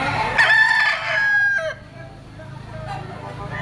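A blue-legged gamefowl stag crows once, loud and near, with a drawn-out call that trails off as faint background noise continues.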